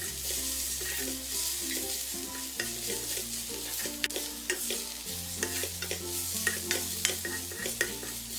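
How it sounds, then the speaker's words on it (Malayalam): A ground spice paste sautés in a pan, with repeated spatula stirs and scrapes over a soft steady sizzle, all beneath quiet background music. "അതിൻ്റെ പച്ച മണം മാറുന്നത് വരെ ഇതൊന്ന് വഴറ്റി കൊടുക്കണം"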